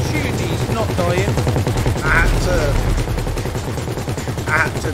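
Rapid gunfire from a GTA V mission shootout, sustained bursts of automatic shots running throughout under game noise, with a couple of louder blasts standing out.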